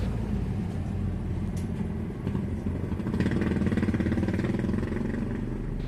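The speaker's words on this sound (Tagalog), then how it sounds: "i-start ko na itong makina." A Toyota Innova engine with a high, rough idle turns over and settles into a steady, rumbling idle, close by with a rattling mechanical texture.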